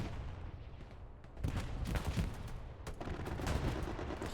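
Strafing-run gunfire in Hell Let Loose on the Mortain map, with loud bursts of shots and booms that thicken after about a second and a half and roll on over constant battle noise.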